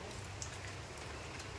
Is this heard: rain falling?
yes